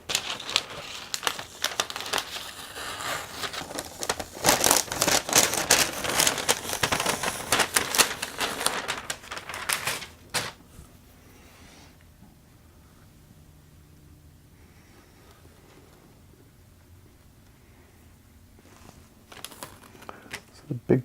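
Masking being peeled from a Black Knight pinball playfield gives a close, crackling, tearing crinkle that runs for about ten seconds, then near silence before a brief return of rustling at the end.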